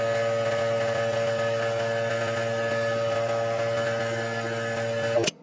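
A lab vacuum pump running during filtration of ammonium chloride, a constant close electric hum and buzz that holds steady, then cuts off abruptly at the end.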